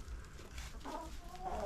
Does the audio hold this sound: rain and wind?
no